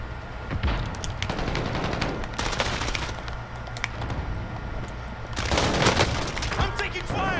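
Gunfire in Call of Duty Warzone: dense, continuous bursts of shots and booms throughout, loud and busy, rising again toward the end, with some voice mixed in.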